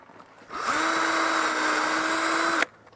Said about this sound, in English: I'm going to pre-drill a hole right here